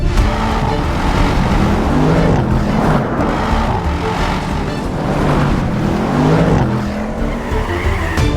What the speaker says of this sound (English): there's absolutely no shortage of power here. Twin turbo V8, 441 kilowatts, 800 Newton meters of torque.